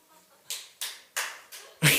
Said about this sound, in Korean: 누가 박수십니까?